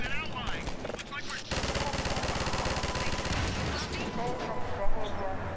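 Turret gunfire from the video game Half-Life 2 rattles in a dense, continuous automatic burst lasting several seconds after a brief lull, loud and steady with a heavier thump near the end.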